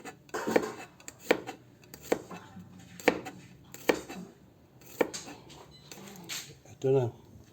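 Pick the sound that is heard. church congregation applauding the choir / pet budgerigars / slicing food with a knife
slicing food with a knife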